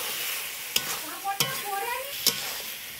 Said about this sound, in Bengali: এবার চিকেনটা দিয়ে দিচ্ছি। চিকেনটা এবার দিয়ে চিকেনটা এবার এটা অনেকক্ষণ করতে হবে।